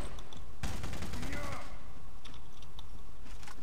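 Burst of RPD machine-gun fire in the Rogue Warrior shooter game, a loud rapid volley of shots lasting about a second, followed by scattered clicks and faint mechanical noises.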